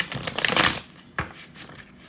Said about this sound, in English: So I'm going to shuffle my cards a few more times.